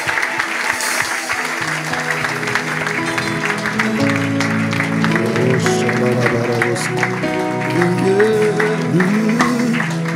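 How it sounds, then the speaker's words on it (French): Church congregation applauding and acclaiming a sermon message, loud continuous clapping and crowd noise layered over sustained musical tones throughout. "Je voudrais qu'on acclame cette parole"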